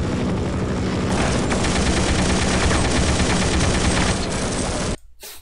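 Rapid, dense gunfire from the They Hunger Half-Life mod game roars loud and continuous for about five seconds, then cuts off abruptly into near silence.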